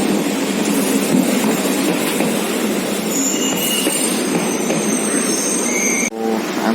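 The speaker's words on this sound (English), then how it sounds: "This is Southern Railways local trains." Chennai Southern Railways local train running steadily with a continuous loud rumble and clatter, high wheel squeals rising mid-clip, heard close from on board with no talking.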